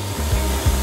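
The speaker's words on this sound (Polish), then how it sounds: "Piła mi pomoże." A saw rasps back and forth through a giant piece of candy, close and steady, with rhythmic low strokes swelling every few tenths of a second.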